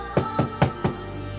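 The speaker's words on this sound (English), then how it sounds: "knocking with no answer." Four evenly spaced knocks on a wooden door, close and solid, with a short pause between each and no voices.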